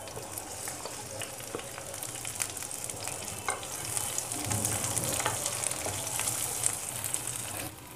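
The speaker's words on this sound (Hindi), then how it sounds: "अब हम इन्हें हल्का सा पका लेंगे।" Garlic, onion and capsicum frying in a pan, a steady close sizzle with scraping stirs throughout, intensifying slightly midway before cutting off.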